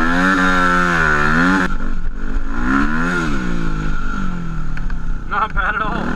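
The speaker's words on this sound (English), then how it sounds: "Ever wondered what the WR250R is like on sand with DOT tires?" A Yamaha WR250R dual-sport motorcycle on DOT tires revs on sand, its engine rising and falling in loud, close surges with clattering drivetrain, and a voice speaks over it.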